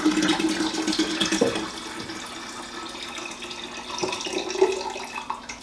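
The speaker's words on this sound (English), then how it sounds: "I'm basically just waiting for my fridge to refill my water pitcher so I can keep adding filtered water to this container" Filtered water is poured into a container indoors, a continuous splashing flow with a few gurgles, fairly close and moderately loud.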